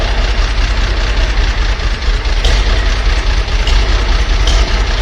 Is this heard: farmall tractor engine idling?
yes